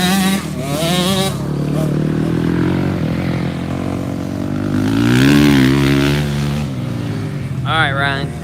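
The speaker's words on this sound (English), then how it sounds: "CR500, huh? That is a beast of a motorcycle." A Honda CR500 two-stroke motocross bike working through muddy ruts at a private practice track, its engine revving and shifting, rising and fading as it passes, with people talking over it.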